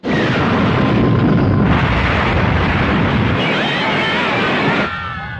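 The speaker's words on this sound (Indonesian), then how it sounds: "kapal dari Nappa dan juga Vegeta terjatuh di tengah kota menyebabkan ledakan yang cukup besar" A cartoon spaceship crashes into a city in a loud, roaring explosion that rumbles continuously for several seconds with crackling debris and whooshing tones, then cuts off abruptly.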